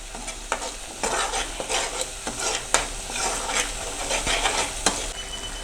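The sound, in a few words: stirring cabbage and carrot with salt in pan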